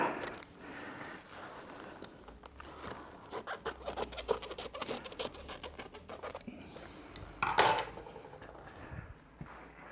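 Scissors cut through upholstery fabric selvage while an Ercol wing chair is reupholstered, giving steady close scratchy snips and rustling with small metallic clicks across the whole stretch, with no talking.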